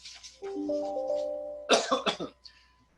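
A short hum of voiced tones, then a cluster of three or four sharp, close coughs, followed by a faint trailing breath.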